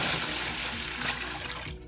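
Cooking water from boiled potatoes and parsnips pours from a jug into a heated pan, a steady close gush of liquid lasting about two seconds with no talk.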